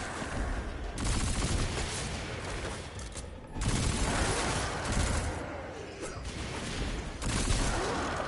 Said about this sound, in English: And then we've got my submachine gun here. A lot more recoil, but a lot faster rate of fire.